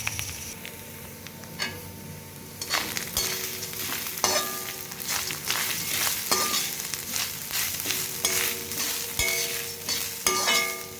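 Grated coconut roasting in a pan over a low flame, with a continuous soft sizzle and frequent scraping, clattering stirs of a spoon against the pan, heard close.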